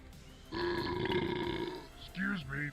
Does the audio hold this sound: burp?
yes